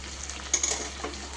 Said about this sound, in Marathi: तर बघा आता व्यवस्थित हे पोहे घालून छान आपण ते मिक्स करून घ्यायचे आहे